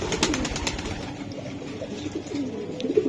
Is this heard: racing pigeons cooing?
yes